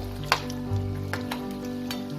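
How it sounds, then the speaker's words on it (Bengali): Potato fritters for vada pav frying in hot oil, a steady close sizzle with a sharp spatter and a few utensil scrapes against the pan. "আমি চারটে চারটে করেই ভেজে নেব, খুব বেশি একসাথে ভাজবো না।"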